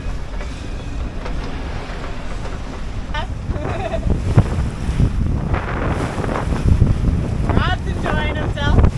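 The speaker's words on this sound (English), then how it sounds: "There's like little gusts that come and go" Gusty wind buffets a sailboat on Lake Ontario, rushing and roaring across the microphone in surges that rise and fall, with water washing along the hull and people talking faintly now and then.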